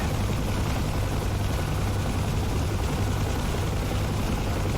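Huey helicopter in the DCS flight simulator flying over the Persian Gulf, a steady close rotor drone and low engine rumble that holds constant throughout with no talking.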